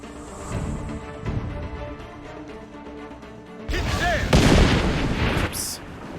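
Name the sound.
cannon siege engine firing in video game Assassin's Creed Revelations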